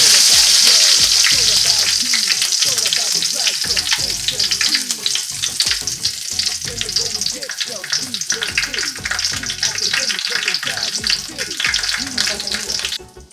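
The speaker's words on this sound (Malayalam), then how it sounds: "ഇതിലേക്ക് കുറച്ച് പെരുംജീരകം കറിവേപ്പില ഇട്ട് കൊടുക്കാം" Fennel seeds and curry leaves frying in hot oil for an egg roast produce loud, continuous crackling sizzle with rapid spitting pops and occasional stirring scrapes throughout.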